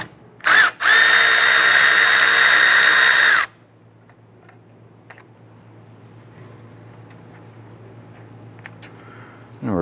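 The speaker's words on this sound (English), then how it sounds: "Let's go ahead and loosen and remove the bolts and separate the line from the condenser." A power tool loosens and removes 10 mm bolts from the AC condenser lines of a 2008-2013 Nissan Rogue: a short burst, then a loud steady whir of about three seconds, followed by quieter clicks and faint handling noises.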